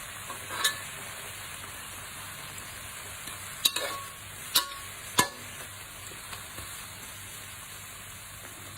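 Boiled rice noodles stir-fried in a pan, a soft steady sizzle broken by a few sharp scrapes and clanks of the utensil, fairly quiet and with no talking.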